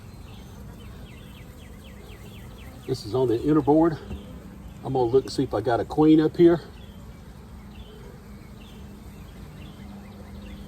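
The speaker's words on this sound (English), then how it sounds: "And a lot of bees." Honeybees hum around an opened hive as an inner board is lifted, a steady close buzz running the whole time while someone talks over it in two short stretches.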